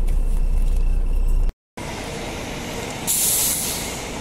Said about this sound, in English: There go 2 Midland Line trains right there.